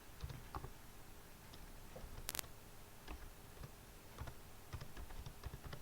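Keystrokes on a computer keyboard: scattered light ticking taps, fairly faint and spaced out, over a steady background hiss with no speech.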